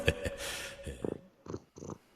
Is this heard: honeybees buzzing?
no